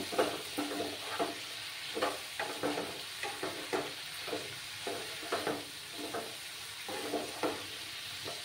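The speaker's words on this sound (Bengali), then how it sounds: "নুনটা দিয়ে ভালো করে কষিয়ে নেব।" Mixed vegetables sautéing with salt in a pan for a winter egg dish: a soft continuous sizzle broken by repeated scraping strokes of a spatula in an irregular rhythm, close and fairly quiet, no talking.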